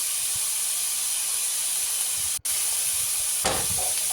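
Chopped onion, garlic and ginger sizzle steadily in a hot pan for Kerala spinach thoran, a continuous close hiss with a brief dropout and a short rustle of stirring near the end.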